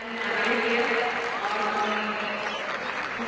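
Steady applause from a crowd at the Red Fort on Independence Day, cheering on children performing bhangra, with the Prime Minister clapping along; continuous clapping with a voice speaking over it.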